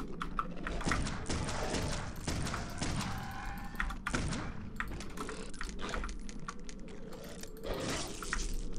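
Weapon reloading in the PC game Clive Barker's Undying: a quick run of clicking, clattering mechanical taps and metallic rattles, steady and close, with brief sharper impacts scattered through.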